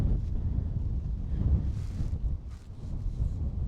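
Strong wind gusts buffet the microphone outdoors on a mountainside during plein air painting, a steady loud rumbling roar with no talk.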